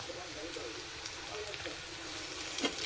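Ginger garlic paste frying in a pan, a steady close hiss and sizzle with a few brief crackles near the end, while a voice talks over it.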